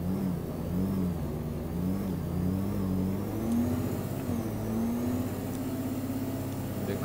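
In the Euro Truck Simulator 2 video game, the engine of a stuck SUV revs continuously, a loud, steady droning hum that rises and falls slightly in pitch throughout, with no talk.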